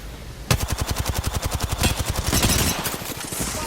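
Rapid automatic gunfire in a video game, a steady burst of loud, evenly spaced shots lasting about two seconds and then trailing into a rumbling echo, with no voices.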